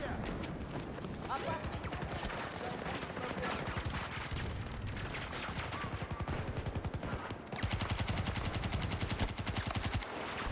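Rapid full-auto gunfire in Battlefield 2042, loud and rhythmic like a machine gun, sustained across the whole stretch and getting louder and sharper late on, with someone talking over the shooting.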